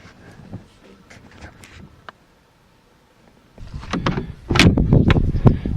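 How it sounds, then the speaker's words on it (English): Doors on a 1938 Buick Special open and close: scattered light clicks and latch sounds, then a louder stretch of heavy, solid clunks and rattles nearby. "All doors open and close nice and solid."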